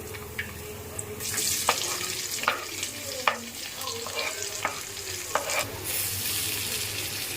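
Onions fry in masala-spiced oil in a clay pot. A constant sizzle sits close under repeated scraping stirs and knocks of the spoon against the pot, all without speech.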